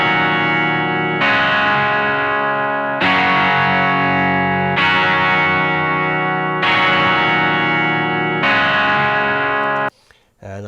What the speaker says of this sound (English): That's a Fender Twin sound, with a wee bit of grit as usual.